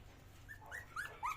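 Small pet dogs whimpering, with a few soft, high, rising whines and squeaks over quiet background hum, growing slightly louder toward the end.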